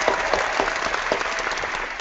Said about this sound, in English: a big round of applause for Jennifer Ford Barry.